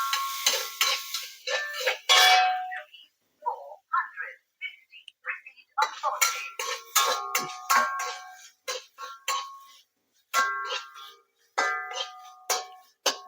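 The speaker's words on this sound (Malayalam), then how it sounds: "ഒരു മുറി തേങ്ങയിൽ ചിരണ്ടി വെച്ചേക്കണത് ഇതങ്ങോട്ട് വറുത്തെടുക്കാം" Grated coconut roasting in coconut oil in a clay pot, heard as intermittent stirring scrapes and soft sizzling clatter with gaps of near silence, close and moderately quiet.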